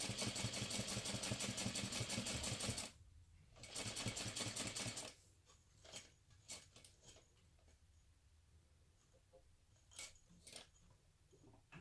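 A sewing machine topstitches around a zippered rectangle on a crossbody bag at stitch length 4, running in a loud steady burst for about three seconds, then a shorter run, then brief intermittent stitching bursts.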